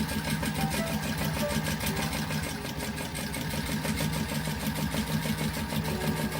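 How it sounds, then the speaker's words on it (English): A sewing machine stitches a notepad cover in a fast, steady whir with a dense rapid needle pulse and a slight bobbin rattle, running continuously and close up with no talking. "So now we're just gonna pop my needle down and whiz down."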